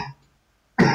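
A short throat-clearing cough bursts out loudly after a brief silence, a single rough burst at the very end.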